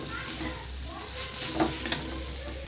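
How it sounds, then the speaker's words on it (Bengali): Raw mango pieces sizzle with tempering spices in a pan while being stirred, a continuous frying hiss with a couple of soft scrapes near the end. "ফোড়নের সাথে নেড়ে চেড়ে নেব কিছুক্ষণ"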